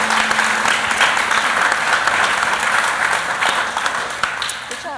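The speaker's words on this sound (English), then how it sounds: "So give a round of applause, please, to John Murphy" Steady applause from an audience at a talk about restoring the old Cook County Hospital, dense clapping at full strength that thins and fades slightly toward the end.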